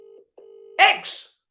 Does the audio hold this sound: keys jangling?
no